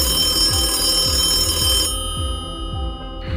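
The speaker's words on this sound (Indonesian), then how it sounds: "bel berbunyi di sebuah ruang pameran Museum Tours" A telephone bell rings in a museum office, loud and close, with a repeating pulse of rings that stops partway through and leaves a fading tone.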